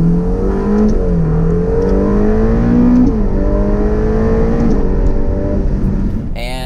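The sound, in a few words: Ferrari Portofino M car driving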